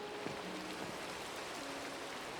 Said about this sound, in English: Sleep away the rain